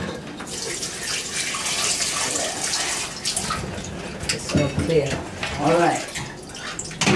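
Filtered tap water runs into a kitchen sink as cucumber is rinsed, a close, continuous splashing flow that shifts as the vegetable moves under the stream, with a few short spoken words over it.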